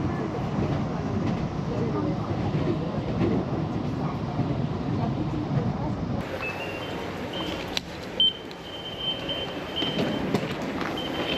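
A train in Seoul rumbles and rattles steadily nearby, with voices talking over the noise and a high whine joining partway through.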